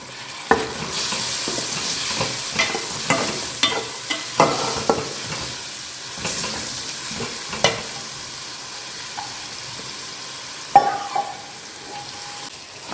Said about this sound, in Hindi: अदरक लहसुन डालने के बाद इसमें डालेंगे टमाटर के टुकड़े।